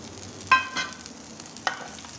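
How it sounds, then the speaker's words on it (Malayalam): Raisins sautéing in a pan for a banana snack, with a soft sizzle and a couple of brief scraping stir clicks, close and quiet. "നന്നായി വഴറ്റി കൊടുക്കണം."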